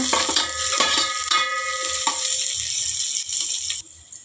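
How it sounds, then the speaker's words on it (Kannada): Half an onion fries in a spoonful of oil in a pot on a gas stove, giving a steady sizzle broken by repeated scraping stirs until the sound cuts off near the end. "ಒಂದು ಅರ್ಧ ಈರುಳ್ಳಿ ಹಾಕ್ಕೊಳ್ಳೋಣ. ಚೆನ್ನಾಗಿ ಫ್ರೈ ಮಾಡ್ಕೊಳ್ಳೋಣ."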